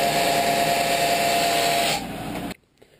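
5/8-inch 8 TPI Acme threaded rod being cut to length: a loud, steady, close abrasive whining roar that drops slightly near the end, then cuts off abruptly into quiet.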